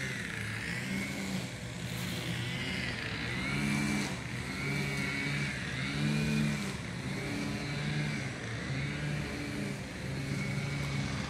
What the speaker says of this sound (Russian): Везде траву косят, так такая, такой шум.